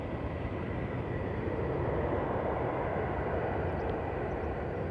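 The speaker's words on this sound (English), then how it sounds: "We've got another E2 Embraer 195 lining up behind us" An Embraer E2 195 jet lines up on a runway at Amsterdam Schiphol, giving off a continuous, even engine roar that stays loud and unchanging throughout, with no voices over it.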